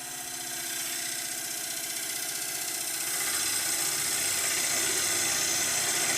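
A wood gouge hollows the inside of a wormy sycamore bowl spinning on a lathe, giving a steady whirring hum with a continuous hissing cut that slowly grows louder, close up, with no talking.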